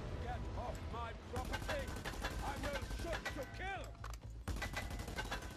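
Rapid bursts of gunfire in the Just Cause 2 video game, dense repeated shots firing fast over a busy game soundscape with speech-like chatter mixed in.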